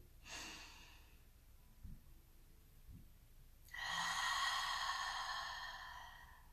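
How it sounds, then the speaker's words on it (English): A slow, deep breath drawn in through the nose, a quiet pause, then a long airy exhale, close and fairly soft. "take deep cleansing breaths, such as this one we can do together"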